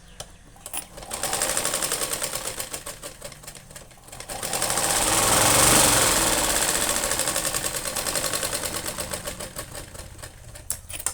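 Sewing machine stitching the cross strip of a four-tuck blouse, running in steady bursts with a rapid rhythmic clatter that rises into a louder, faster middle run before easing off, close and alone.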